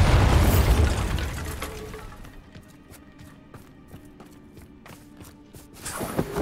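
A Bombarda spell detonates in Hogwarts Legacy, opening with a loud, heavy blast that rumbles and decays over about two seconds, followed by quieter crackling debris and scattered ticks, then a fresh swell of noise at the end.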